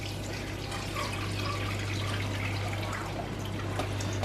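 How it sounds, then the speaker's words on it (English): Juice for a Christmas dinner is poured through a sieve into a saucepan, a soft, steady trickle and splash of liquid that runs continuously at low volume, with no talk. "Literally going to pour the juice through."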